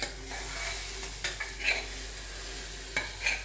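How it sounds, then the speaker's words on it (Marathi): Ground masala paste is sautéed in a pan for fried masala eggplant, a soft, steady sizzle broken by a few scraping stirs of a spoon against the pan, close and fairly quiet, with no talk. "आता हे मी परतून घेते."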